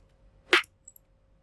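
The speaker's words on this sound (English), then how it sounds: "it's a layer of clap and snare layered together" Layered clap and snare sample: one bright, crisp snapping hit with a short tail, heard alone.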